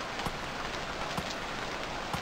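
Rain in the Stranded Deep survival video game, a steady, moderately quiet hiss of rainfall with a few sharper drops standing out at irregular moments.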